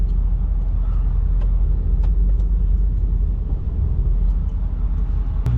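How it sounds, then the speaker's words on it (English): An old Ford 6.4 Powerstroke farm truck drives along, a steady loud low rumble of engine and road noise inside the cab, with faint intermittent squeaks and creaks from the body. "There's so many squeaks and creaks."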